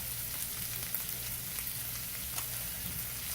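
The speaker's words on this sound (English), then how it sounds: "it will be time to cook the steaks in the pan again" Sirloin steaks fry in a pan with a steady, close sizzle and low crackle that stays even throughout, with no one speaking.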